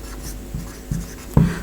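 Marker or chalk strokes on a classroom board, three distinct scratchy taps and short strokes spaced roughly a third of a second apart, close and moderately loud, with no voices over them.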